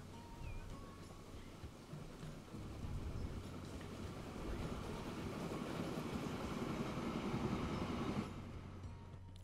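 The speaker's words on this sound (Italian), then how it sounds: "posso andare a ruotare e guardarmi il bellissimo treno che passa" A train passes in the Transport Fever 2 video game, a steady broad rumble and rolling clatter that swells slightly and then holds, dropping off near the end.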